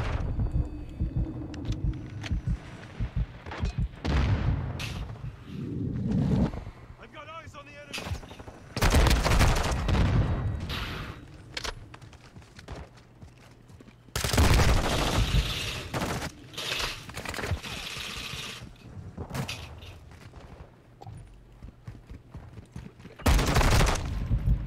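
Repeated bursts of secondary-weapon gunfire in Modern Warfare 2, loud rapid volleys separated by short gaps, with game effects and occasional voices in between.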